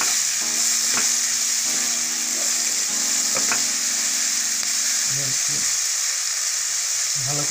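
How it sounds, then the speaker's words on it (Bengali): Pasta stirred in a pan after salt is added, a steady sizzling hiss with soft scraping and occasional spoon knocks, loud and continuous throughout. "নুনটা দেওয়ার পরে আমি একটু ভালো করে নাড়িয়ে"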